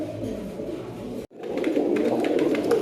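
A male pigeon coos repeatedly up close, a low, throaty rolling call that breaks off briefly and then resumes, with faint talk in the background.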